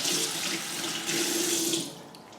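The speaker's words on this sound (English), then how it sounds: "So now I'm going to rinse it off." Tap water runs steadily over a planter holding mini Phalaenopsis orchids, a close, loud hiss and splash that briefly shifts in tone, then eases off at the end, with no voices.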